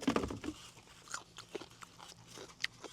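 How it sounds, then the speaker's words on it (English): Crisp crunching bites and chewing of radish eaten alongside Korean fried chicken, close to the mouth, with irregular crunches and a sharper bite near the end, quiet with no talk. "You hear that fucking crunch?"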